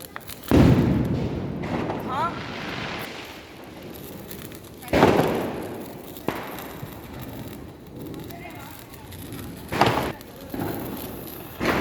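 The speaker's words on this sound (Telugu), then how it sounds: "యా, భూచక్రం కాలుస్తున్నాడు సంతోష్." Diwali fireworks being set off outdoors, with a ground spinner lit among them: several loud bursts and whooshing fizzes spaced a few seconds apart, with people talking between them.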